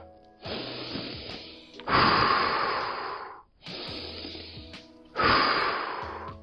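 Slow breathing demonstrated as a pacing example: two long inhale-exhale cycles, each breath a loud, close airy rush lasting over a second, separated by brief pauses.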